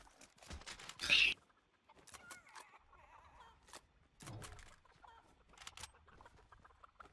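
Chickens clucking in Fortnite: a sharp, loud squawk early on, then softer scattered clucks and rustling against a quiet background, with faint voices at moments.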